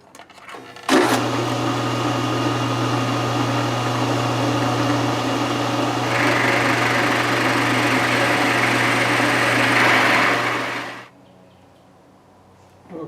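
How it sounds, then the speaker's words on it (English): A milling machine cuts the top of a steel bar clamped in a mill vise, producing a loud, steady motor hum with a hissing cutting noise that shifts partway through and then winds down to near quiet. "I'm going to mill the top of it first and then"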